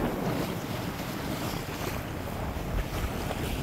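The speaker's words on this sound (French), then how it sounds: "des voiliers, puis des bateaux à moteur, puis des navettes" Wind buffets the microphone on open water while sailboats and motorboats pass, a constant rushing roar with waves and hull wash, no talk.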